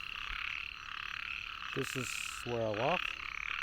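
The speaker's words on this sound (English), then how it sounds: "But you can hear the frogs are out." Frogs croak in a dense, steady chorus outdoors on a dark, rainy evening walk, with a few nearer croaks standing out. A person speaks briefly over the sound.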